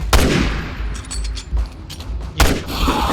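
Sniper rifle gunfire in the video game Resident Evil 6, with heavy booming shots at the start and again near the end, and rumbling action sounds between them.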